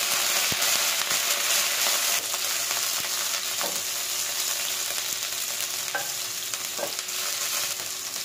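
Ginger sautéing in a pan for hotel-style spicy noodles gives off a steady, close hiss of sizzling oil, with occasional spoon scrapes and small pops over the continuous frying.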